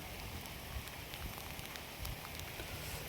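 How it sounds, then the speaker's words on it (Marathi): Heavy rain pouring steadily outdoors, a dense constant hiss of drops hitting surfaces that stays even and loud throughout, with no voices. "आज कालच्यापेक्षा जास्त पाऊस आहे"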